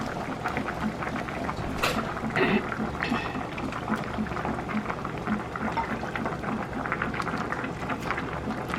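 A pot of smoked fish with squash and vegetables simmering, giving a steady, close bubbling and gurgling throughout, with faint clinks of a utensil.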